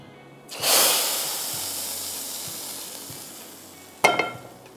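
White cumin hitting hot oil for a tempering, a sudden loud sizzle that flares up then slowly fades to a steady hiss, with a second sharp crackle near the end.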